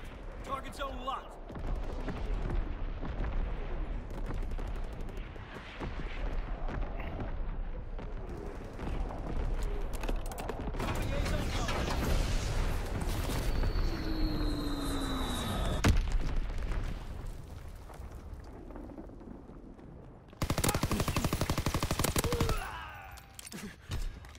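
Artillery barrage firing for full effect in a WW2 game: a sustained rumble of booming blasts and gunfire, with a burst of heavier concentrated firing near the end, steady and loud throughout.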